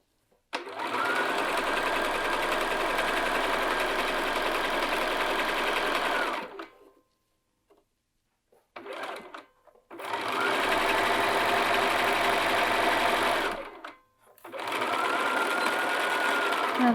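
Home sewing machine running fast along a long sleeve seam on shifty garment fabric, a loud steady whirring hum in three long bursts separated by short pauses, with brief handling noises in between.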